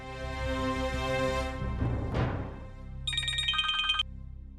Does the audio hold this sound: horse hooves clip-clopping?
no